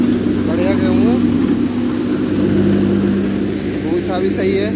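A Kubota MU5502 threshing machine processing wheat drones with a steady, loud mechanical hum outdoors, running continuously beneath close-up voices of people talking.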